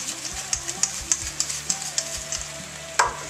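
Canned chopped tomatoes sizzle and spit in a hot pan while being stirred, with a steady frying hiss and regular scraping clicks of the spoon, close and alone.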